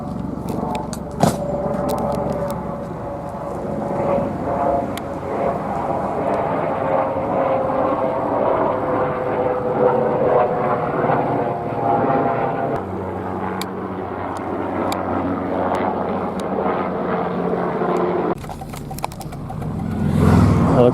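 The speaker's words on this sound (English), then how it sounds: "Helicopter approaching, helicopter approaching." A helicopter approaches and flies over a street in Canoga, its steady rumbling drone swelling slightly over the sounds of nearby road traffic, with a sharp clatter near the end.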